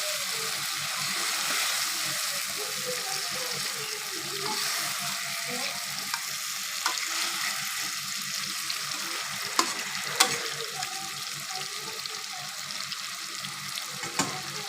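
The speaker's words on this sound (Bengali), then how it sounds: "এখন এতে আমি ভেজে রাখা মাছগুলো দিয়ে দেব" Lightly pre-fried pangas fish goes into a hot pan of oil and sizzles steadily, a loud continuous frying hiss with occasional stirring clicks and scrapes on top.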